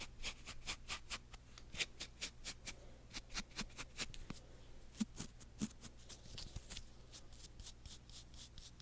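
Brisk brushing strokes through eyebrows with a brow brush during a close-up grooming session, a quick run of crisp repeated swipes, close and soft, with no talking.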